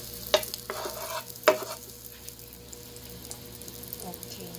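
Butter goes into a hot pan before bread for a ham and cheese sandwich dipped in egg, giving a soft, faint sizzle. A couple of sharp clinks land near the start.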